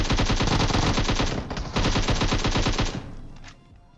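Rapid automatic gunfire from the mobile battle-royale game PUBG Mobile, loud and sustained in dense bursts with a short break midway, then tapering off near the end with no talk.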